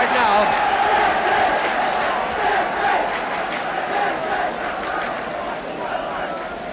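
Bristol City supporters roar and chant steadily through a 1975–76 football derby against Bristol Rovers, a loud, sustained stadium crowd with a match commentator talking over it.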